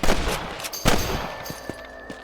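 Gunfire from a hunting rifle aimed at rabbits in the video game Red Dead Redemption: a few sharp, separated shots with echoing tails, the loudest near the start and middle, followed by fainter reports.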